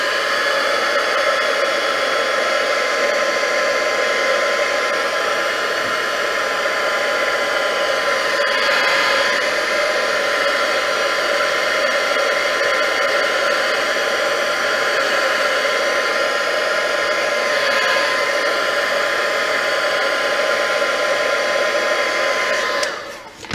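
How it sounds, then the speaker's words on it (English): A heat gun blows steadily to dry a distressed craft tag, a loud, continuous airy roar that holds nearly unchanged throughout and cuts off abruptly at the end. "Maybe just give that a wee quick blast with the heat gun to try and dry it a wee second."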